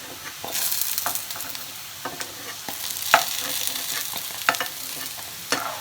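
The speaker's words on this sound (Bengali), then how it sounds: "এই যে দেখো এইভাবে ভাজা করবে" Pieces of steamed chana dal dhoka fry in hot oil in a pan, giving a steady sizzle broken by scraping stirs and small crackling bursts, close and fairly quiet.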